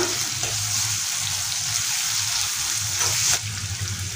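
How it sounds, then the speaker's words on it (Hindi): Steady sizzling and crackling of finely chopped onions frying in a hot pan, continuous and close, with faint occasional stirring. "प्याज को अच्छे से फ्राई करेंगे"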